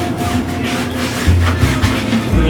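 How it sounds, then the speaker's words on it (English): A microfiber cloth soaked in rubbing alcohol is rubbed against a tire's rubber sidewall to clean off grease, giving a loud, continuous scrubbing and rasping sound in rapid back-and-forth strokes. "Just put the alcohol on the microfiber and just"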